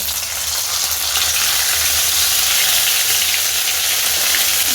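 Cumin and ginger paste frying in a pan with a loud, steady, dense sizzle that holds without pause throughout, close and continuous with no talking.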